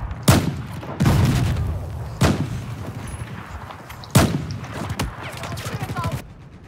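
Mare's Leg lever-action gunshots in the game Battlefield 4, several loud sharp reports spaced about a second or two apart, each with a short echoing tail over a busy background of distant battle noise.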